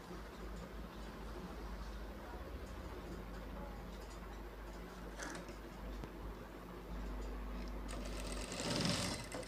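A sewing machine stitches piping onto a blouse, its steady mechanical whir and fast ticking running continuously at low level, with a brief louder rattle near the end.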